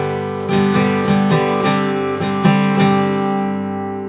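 An acoustic guitar strums bar 5 of a song, with full chords in a down-up rhythm, close and loud, ringing on at the end with no talking.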